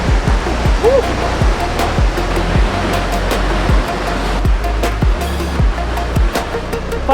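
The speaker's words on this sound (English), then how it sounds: "go back under the waterfall, through the waterfall, back down all the way" Falling water roars loudly and close as someone walks beneath and through a small waterfall in northern Slovenia, with a constant rushing spray and scattered sharp splashes and knocks.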